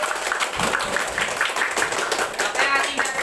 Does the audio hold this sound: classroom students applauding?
yes